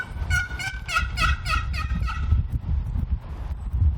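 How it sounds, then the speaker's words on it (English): Wild turkeys gobble in a series of rapid, rattling calls at moderate distance, repeating over the first two seconds, then fading under rustling wind and low background rumble. "they're gobbling back to us"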